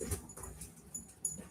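A restless dog in a car boot gives faint, soft whimpers and small shifting sounds, quiet and close, in short scattered bursts.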